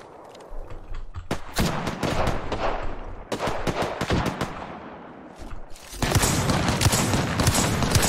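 Bursts of gunfire from an Apex Legends match crackle in rapid volleys, with short pauses between strings of shots and a louder, sustained stretch of firing near the end.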